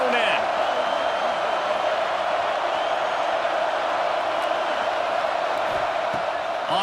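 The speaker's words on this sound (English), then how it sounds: "The roar of the crowd trying to fuel this defense to keep them pinned in their own end" A stadium crowd roars steadily at a Penn State versus LSU football game, a loud, sustained wash of noise throughout with a commentator talking over it.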